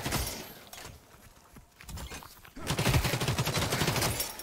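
Rapid bursts of hip-fired gunfire from The Cycle: Frontier, a dense run of close shots that swells loud in the second half after a quieter stretch of scattered pops.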